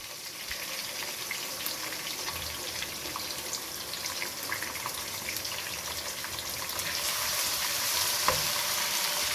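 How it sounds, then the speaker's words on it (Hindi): Ground garlic and ginger paste frying in a pan for Punjabi kadhi pakora, a dense steady sizzle and crackle that grows a little louder near the end, with no one speaking. "लहसुन अदरक का पेस्ट जब भुन जाए"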